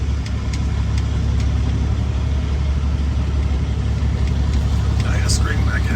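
A truck engine rumbles steadily at low speed while backing up a trailer, a constant close drone with no change in pace.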